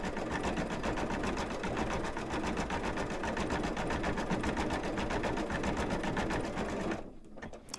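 An embroidery machine stitches the back of a gingerbread man design in a steady, rapid, even mechanical rhythm close up, running continuously before slowing and stopping near the end.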